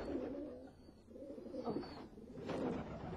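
Pigeons coo in soft, low, throaty rolls, several overlapping calls repeating close by with steady background noise and no talking.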